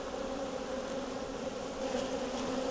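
Honey bees buzz in a dense, continuous hum at an open hive, the swarm's drone steady and close with slight swells in loudness.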